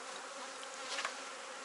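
Honeybees buzz at the hive entrance of a colony raising a new queen, a steady close hum with a few louder passes of single bees, and no talking.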